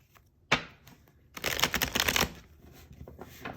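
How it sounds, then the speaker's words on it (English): Tarot deck being shuffled up close, a sharp snap of cards followed by a longer riffling flutter, then quieter soft handling in a quiet room. "we'll do one more shuffle"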